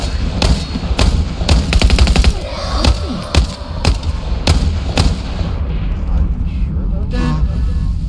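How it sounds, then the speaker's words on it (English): Enemy gunfire in the video game Into the Radius 2: sharp, loud shots in irregular bursts, including a rapid volley, over a rumbling background with some talk. "he's shooting from down the stairs, I think"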